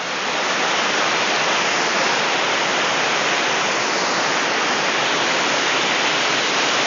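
Pha Kluai Mai waterfall in Khao Yai roars steadily from its upper edge, a dense, even wash of falling water with no pauses and no voices over it.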